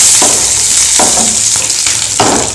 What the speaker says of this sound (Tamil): வரமிளகாயும் போட்டுச்சு. இப்போ கருவேப்பிலை சேர்த்துடலாம்.